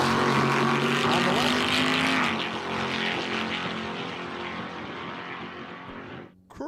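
A Pontiac Firebird and a Dodge Challenger SRT drag race at a dragstrip. Loud engine roar fades as the cars pull away, with an announcer talking over it throughout.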